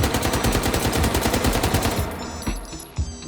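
Rapid, loud pistol gunfire in the VR shooting game H3VR, with dense shots for about two seconds and then a few scattered single shots, with no talking.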